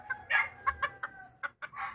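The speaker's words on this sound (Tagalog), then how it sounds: "Maliit na manok." A small bantam chicken clucks in a rapid series of short, sharp notes. The calls are clear and close, and no voices are heard.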